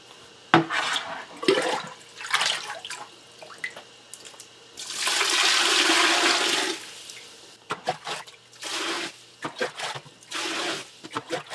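Water from a water softener's tank is poured from a jug into a drain in several splashing bursts, including one long sustained pour, with short gaps between them.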